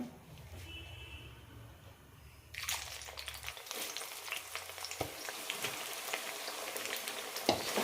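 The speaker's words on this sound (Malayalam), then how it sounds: "ഇനി ഇത് വറുത്തെടുക്കാം എണ്ണ നന്നായി ചൂടായിട്ടുണ്ട്" Jackfruit pieces drop into hot coconut or sunflower oil and start frying hard, a low rumble giving way to a loud, dense crackling sizzle that holds steady, with a few spoon clinks near the end.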